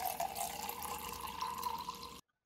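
A thin, continuous trickle of water is poured into whisked yogurt to make buttermilk, running softly and evenly for about two seconds before stopping abruptly.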